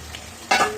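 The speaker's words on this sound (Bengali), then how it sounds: "এবার আলুটা দিয়ে দেবো" Potatoes drop into a pot of chicken being cooked, giving one short splashy sizzle after a quiet moment.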